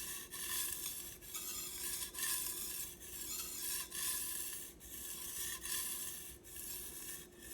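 A knife blade drawn in repeated strokes along a sharpening stone, giving a rhythmic rasping scrape that rises and falls about every second, close and fairly quiet.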